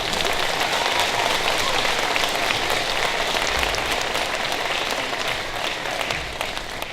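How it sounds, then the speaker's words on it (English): Sustained applause from an audience for a speaker at a time capsule ceremony, dense even clapping that stays loud and steady throughout, easing slightly toward the end. "let's give him a round of applause"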